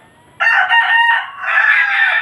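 A loud rooster crow rings out close by at a small chicken range farm, in two long, drawn-out phases after a brief quiet start.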